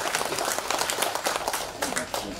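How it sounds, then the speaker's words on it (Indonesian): An audience claps at an Indonesian government ceremony inaugurating a new electricity connection program, a steady patter of many hands that runs for a couple of seconds at moderate loudness without any talk. "tepuk tangan sekali lagi untuk Bu Andi, luar biasa."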